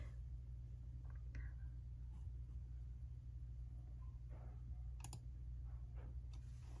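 A computer mouse gives a quick, faint double-click in a quiet room, two tight clicks over a steady low electrical hum and soft background rumble.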